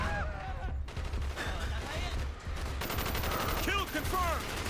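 Sustained rapid gunfire crackles through a firefight in Call of Duty: Black Ops, close and dense under a low rumbling bed, with shouted voices of soldiers breaking in over the shooting.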